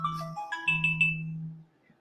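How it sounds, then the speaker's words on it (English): An incoming call sets off a phone ringtone, a bright electronic melody of stepped tones over a steady low hum. It is clear and close, and it fades out after about a second and a half. "You were calling my phone"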